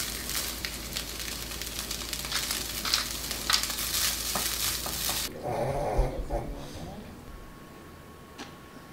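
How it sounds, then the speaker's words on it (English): Boiled rice and corn fry in butter with salt and pepper in a pan, crackling and sizzling briskly up close for about five seconds before the frying sound cuts out, leaving quieter soft clatter afterward. "I added some butter in a pan, then I have added the boiled rice and corn along with salt and pepper"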